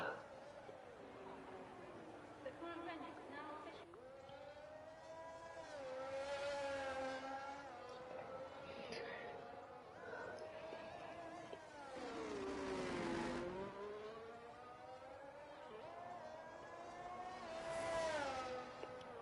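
F1 cars pulling out of the pit lane in a racing video game during an esports championship round at the Brazil circuit, with engine whines rising and falling continuously as the cars accelerate, under steady background talk.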